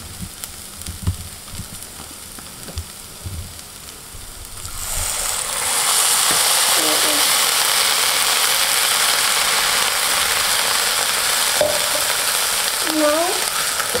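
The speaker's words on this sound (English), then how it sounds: "We have to add in our tomato puree." Tomato puree hits a hot pan while making hotel-style tomato soup, setting off a loud, steady sizzle and frying hiss that holds for several seconds after a quieter start, with a few scraping stirs.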